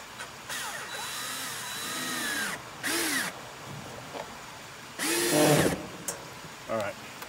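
Power drill driving screws into a trellis bracket, with two or three short, loud whining bursts of motor between quiet handling noises and someone speaking briefly.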